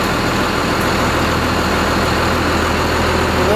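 A 1992 Bluebird bus diesel engine running on waste vegetable oil, a loud, steady, close droning hum with no breaks.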